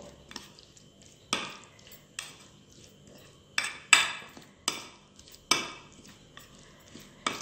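Spoon scraping and clinking against a bowl while mixing mango-ginger pickle, a series of sharp metallic knocks and scrapes spaced about a second apart over quiet background.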